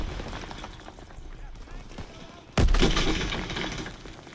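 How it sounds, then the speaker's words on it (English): A video game gun fires a sudden loud shot after a quiet stretch, followed by a lingering burst of rumble, with a voice talking faintly before it. "This gun does like virtually no damage."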